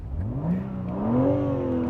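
A BMW G80 M3 Competition's engine revs from idle and climbs in pitch, heard nearby in a single rising burst with no talking.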